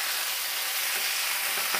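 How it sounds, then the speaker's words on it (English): Chicken breast sizzling in oil in a skillet, a steady loud hiss of frying that stays close and continuous with a few faint pops near the end. "That's what you wanna hear when it touches down, that sizzling."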